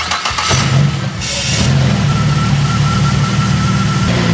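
A Holden Commodore engine fitted with a K&N pod air filter starts and settles into a loud, close idle, with an intake rush and a steady low hum carrying through, no talking.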